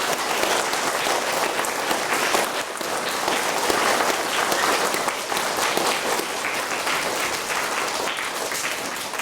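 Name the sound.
audience clapping to celebrate scholarship winners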